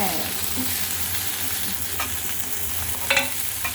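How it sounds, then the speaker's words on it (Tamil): Ginger sautéing in oil in a frying pan for a ginger tomato chutney, a continuous close sizzle and crackle with a brief stir or clink of the pan near the end. "இந்த இஞ்சி கூட இப்போயே போட்டோம்னா அது வதங்கிட்டுருக்கோம்"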